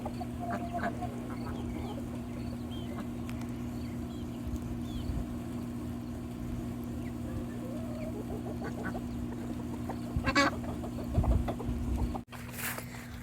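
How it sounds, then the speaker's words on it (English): Backyard chickens clucking with ducks quacking nearby in a garden setting, a steady murmur of poultry calls with a constant low hum underneath and a brief louder burst near the end. "There's my big chickens."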